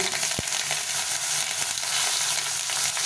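Chopped small tomato frying with spices in a pan for a pointed gourd (potol) curry, giving a steady, close, continuous sizzle with one brief clack near the start and no talking.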